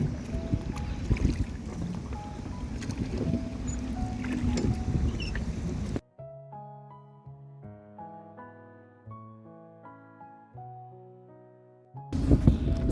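A rowing boat moves along the river at Belper River Gardens, giving a few seconds of soft water and wind noise. Music then takes over for about six seconds before the outdoor river sound briefly returns.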